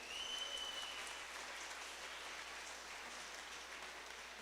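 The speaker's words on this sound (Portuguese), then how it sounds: "Vamos aplaudir o Senhor" Applause from a congregation at a religious gathering, faint, dense clapping that holds steady throughout with a thin tone at the start.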